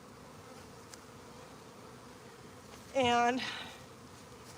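A honey bee swarm clustered on a branch gives off a steady, moderate buzzing drone throughout, with a single brief spoken word breaking in near the end.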